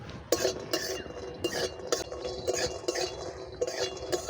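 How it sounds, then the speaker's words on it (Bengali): Bori (lentil dumplings) are dry-fried in a pan without oil for a banana flower curry, and a utensil stirs them with repeated metallic clinks and scrapes. The strikes come in a steady, uneven rhythm, close and clear. "প্রথমে বড়িটা ভেজে নিচ্ছি।"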